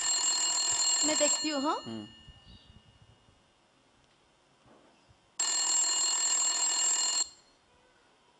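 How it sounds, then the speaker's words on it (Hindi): A home telephone bell rings in two loud, sustained bursts separated by a pause, with a woman's brief reply spoken just after the first ring. "और उसी समय उनके घर के फोन की घंटी बजती है।"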